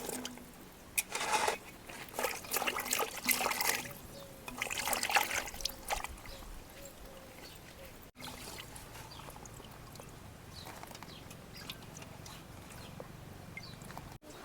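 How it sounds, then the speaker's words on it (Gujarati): Okra is washed by hand in a bowl of water, with close splashing, pouring and squishing sounds in bursts that ease into quieter trickles. "બધો ધોઈ નાખશું પહેલાં પાણીમાં."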